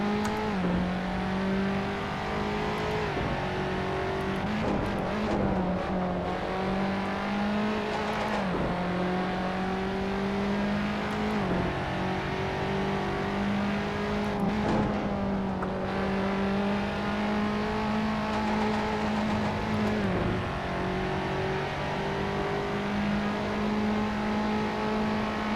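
A race car engine howls steadily through a last lap in Assetto Corsa, loud and close, rising through the revs and dropping with each gearshift in a repeating pattern, with no talking over it.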